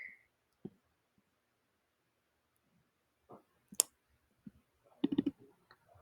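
A computer mouse double-clicking while editing layers in image-editing software, heard as faint, sparse clicks in brief pairs against near silence.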